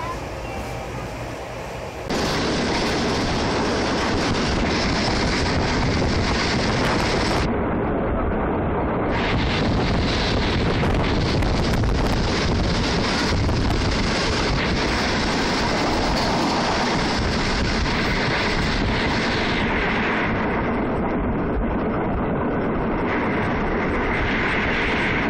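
A moving passenger train on the Karachi to Lahore railway rumbles loudly and continuously, its wheels and carriage noise mixed with heavy wind rushing past, from an onboard position close to the tracks.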